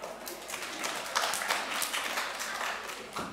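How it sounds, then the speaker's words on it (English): Students in a lecture hall clap together at a lecturer's request, a brief burst of hand claps that blur into one short round rather than distinct separate beats. "So clap your hands 3 times if you can hear me."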